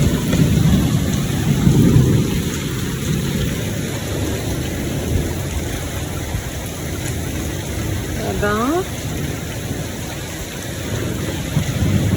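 Heavy hail and rain from a thunderstorm pelt down in a steady roaring clatter, with low rumbling underneath throughout; a brief voice is heard near the end.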